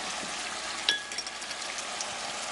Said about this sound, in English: And we're going to let this fry for a little while.